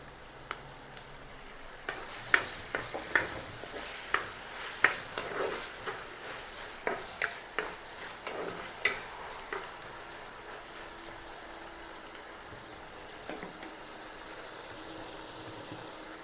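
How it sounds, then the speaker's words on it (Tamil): Onions and tomatoes fry in hot oil while being stirred for a crab gravy, giving a steady sizzle with scattered sharp crackles and utensil scrapes through the middle, then settling into a softer hiss with no talking. "இதோட 250 கிராம் தக்காளியும் சேர்த்துக்கிறேன்."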